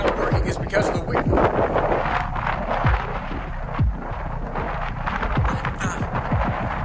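Strong wind buffets the microphone outdoors on a hill in Oklahoma, a loud continuous rumbling roar with gusty throbbing low thumps throughout.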